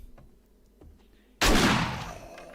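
Shotgun fired once in the zombie survival game 7 Days to Die, a loud close blast at a burnt church with a long decaying tail after a few quiet background clicks.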